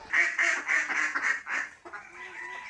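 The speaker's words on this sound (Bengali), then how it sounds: "এদিকে এই যে হাঁস চিল্লাপাল্লা লাগাইছে" Ducks quack loudly in a quick rhythmic series of about six harsh calls, then trail off into softer, lower quacking.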